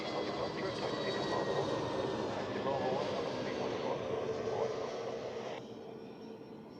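Swiss narrow-body airliner departing Zurich Airport, a steady, loud jet engine roar that holds for several seconds and then eases off slightly, with someone talking over it.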